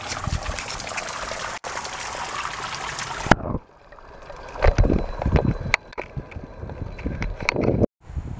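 Spring water trickling and splashing at a Hawaiian beach, close and fairly loud, a dense rushing flow at first and then sparser irregular drips and splashes.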